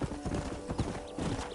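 Horse hooves galloping in the Western game Red Dead Redemption, a steady rapid clip-clop close up, with a brief whinny-like tone and some faint background sound.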